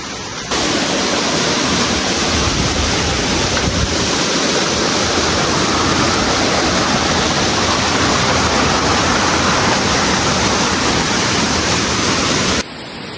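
Second tier of a waterfall on a hike near Cherandong dam in Kuala Kubu Bharu, a loud, steady roar of rushing falling water that holds unbroken for the whole stretch.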